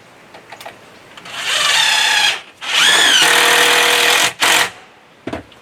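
A power drill drives screws into a cabin wall under construction, two long loud whining bursts with a shorter third one, rising in pitch as each screw spins in and pulls tight.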